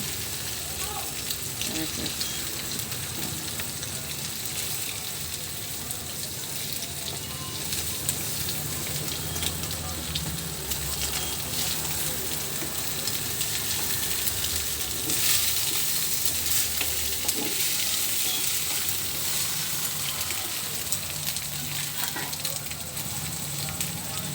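Egg fried rice is stirred and turned in a hot pan, giving a steady loud sizzle with crackling and occasional scraping that runs throughout, under a voice.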